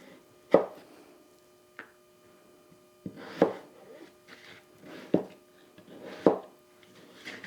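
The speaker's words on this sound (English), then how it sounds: "All our potatoes are chopped." Knife chopping potatoes for potato soup on a cutting board, six sharp separate thuds spaced a second or more apart, close and clear against a quiet kitchen.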